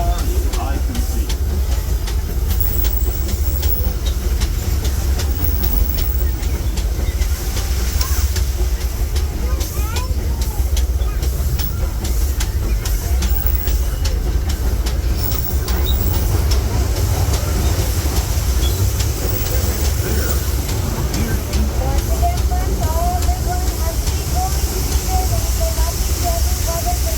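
The Disneyland Railroad's Fred Gurley steam locomotive pulls passenger cars along the rails in a steady, loud, continuous rumble, with rhythmic clacking and a hissing wash heard from on board, and a voice faintly present underneath.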